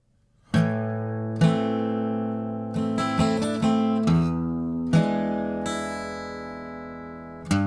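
An acoustic guitar plays the chord part of a song, with ringing strummed chords and quick changes in a steady rhythm. The strums are close and clear after a brief silence, and no metronome click stands out.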